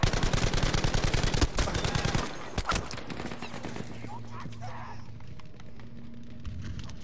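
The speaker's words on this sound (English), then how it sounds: "I'm getting shot from a guy that's like through the map" Rapid automatic gunfire in the shooter game Battlefield V, a loud close burst of rhythmic shots for about two seconds, then a couple of isolated shots before fading into quieter ambient game noise.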